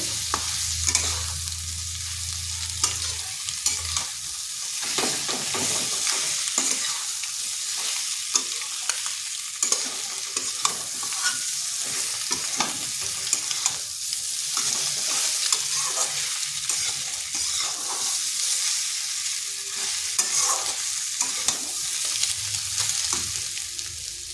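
Fried pointed gourd tossed with spices in a pan gives a steady sizzle, with frequent scraping stir strokes running through the whole stretch at close range and no voices.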